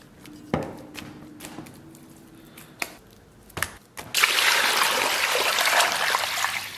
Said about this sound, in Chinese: 咱们先拿清水啊，把羊肉先简单给它洗一下